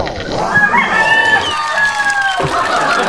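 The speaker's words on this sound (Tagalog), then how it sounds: "Tuktugaok, sabi ng manok." A rooster crows nearby with a long drawn-out call, set against background noise and other birds.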